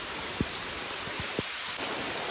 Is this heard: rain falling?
yes